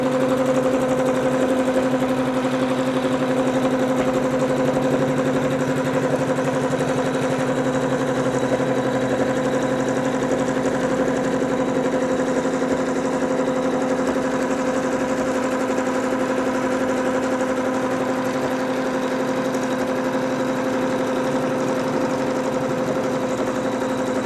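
An embroidery machine in quilting mode sews a quilt top to loose-laid wadding and backing in the hoop. It gives a steady, even mechanical hum with a constant tonal drone, close and unbroken, with no talk.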